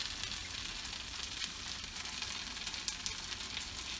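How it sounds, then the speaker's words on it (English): Potatoes frying in olive oil in a pan for a Spanish tortilla, a dense steady sizzle and crackle with scattered sharp pops throughout, close up and without any voices. "So these potatoes, as you can see, they're cooking nicely"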